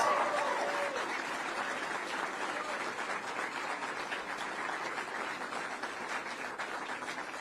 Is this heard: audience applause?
yes